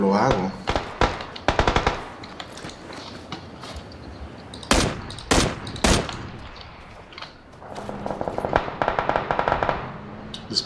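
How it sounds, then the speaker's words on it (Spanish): Gunfire in the video game PUBG crackles in rapid bursts and single shots, some loud and sharp, others fainter, with talking mixed in throughout. "Disparos a la derecha."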